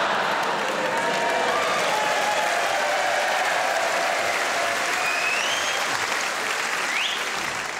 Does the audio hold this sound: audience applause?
yes